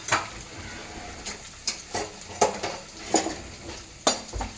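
Chana dal and urad dal roast in a pan, a spoon scraping and stirring in a run of sharp, irregular strokes over a faint background sizzle, close and fairly quiet.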